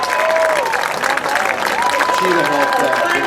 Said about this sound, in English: Listen to that crowd, huh? On their feet.